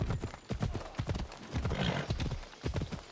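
Horse hooves clip-clop in Assassin's Creed Odyssey, a steady, rhythmic run of sharp, close knocks at a moderate trot, with a brief whinny-like sound partway through.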